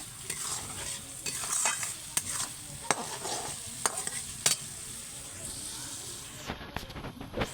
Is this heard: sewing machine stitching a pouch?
no